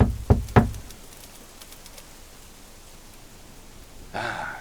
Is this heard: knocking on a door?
yes